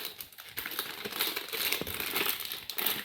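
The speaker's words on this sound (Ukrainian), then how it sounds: "пакетики, трішки трішки розірвати." Close, crinkly rustling of thin plastic packets being handled and ripped open, with a continuous crackle and a few sharper bursts.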